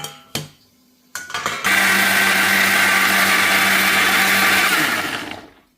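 An electric kitchen mixer grinder turns a batch of ingredients into a paste, starting with a few clicks and a short spin, then a loud, steady high whir that holds for several seconds before winding down.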